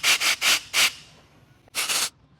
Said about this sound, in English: Now we can blow some compressed air right down in the intake and get that mess out of there.